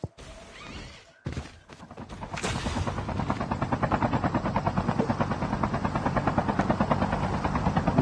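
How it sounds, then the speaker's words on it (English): A helicopter in the mobile shooter Call of Duty Mobile approaches after a few thumps and swells into a loud, steady rotor chop with rhythmic beating that dominates the mix. "Oh, it's a helicopter here."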